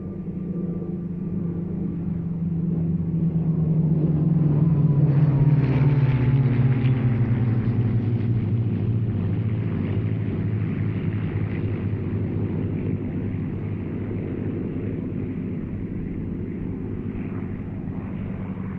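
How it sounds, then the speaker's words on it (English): Spitfire, P-51 and a third warbird making a single formation pass at an air show commemorating D-Day, a deep piston-engine drone swelling to a loud peak with a falling pitch, then a lingering rumble. "Now here we go for the final and only pass of all three aircraft."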